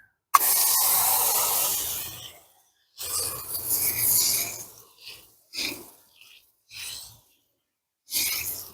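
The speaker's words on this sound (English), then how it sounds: "Wet it down. Got my sprayer diluted 1 to 3." Diluted tire cleaner, mixed 1 to 3, sprayed from a hand sprayer onto a car's front passenger-side tire: several close, loud hissing bursts of varying length separated by short pauses, with no talking.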